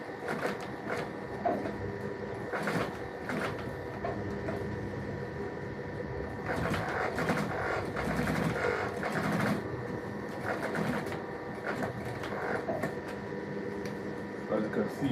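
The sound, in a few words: sewing machine stitching a shoe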